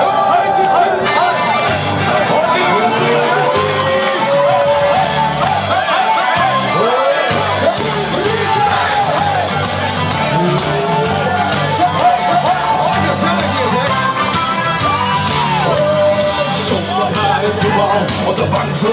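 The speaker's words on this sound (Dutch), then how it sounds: "Geef ze een groot applaus." A loud, dense crowd at a Gemertse-lopers party performance keeps up continuous applause and cheering for the full stretch, with shouts and babble blending over a thumping musical backdrop.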